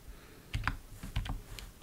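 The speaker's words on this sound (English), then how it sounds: "start typing a line here" Keystrokes on a computer keyboard while a line of code is entered in the Helix text editor, a quiet irregular run of soft clicks in small bursts, fairly close.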